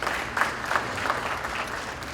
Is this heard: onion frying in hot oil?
no